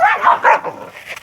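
A dog gives a short burst of two or three close, loud barks and yips, with a voice speaking faintly around them.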